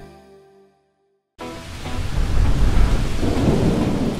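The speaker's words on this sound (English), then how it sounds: "isn't rain so beautiful?" Thunder rumbles loudly with steady heavy rain in a thunderstorm, starting abruptly after a moment of near silence and continuing as a dense, close roar.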